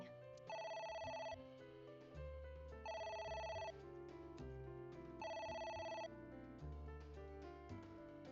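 A telephone rings in three repeated electronic trills in the video game AI: The Somnium Files, evenly spaced over a soft synth backing, fairly quiet.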